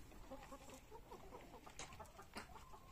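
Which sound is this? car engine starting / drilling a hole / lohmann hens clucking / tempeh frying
lohmann hens clucking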